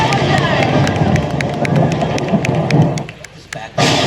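Dense crowd applause with some cheering fills a lively television show launch event, staying loud and steady before briefly dropping and surging back up.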